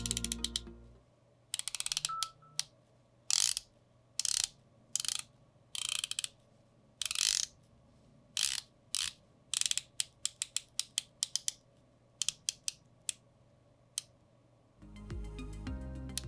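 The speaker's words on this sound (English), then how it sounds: "a click mechanism is inside that sealed unit that the bezel connects to" A titanium RZE Aspirare watch with a blue DLC-coated aluminum bezel insert ratchets round in a long series of crisp, close clicks, some single and some in quick bursts, separated by short pauses, with no talk.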